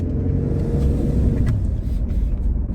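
A Toyota Land Cruiser pulling away and accelerating, with a steady, loud low engine and road rumble heard from inside the cabin that holds constant throughout.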